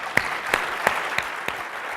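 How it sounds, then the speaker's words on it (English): Scattered hand claps from a conference keynote audience, a handful of distinct claps over a steady crowd murmur, fairly close and moderately loud. "let's get a big round of applause for Ivan"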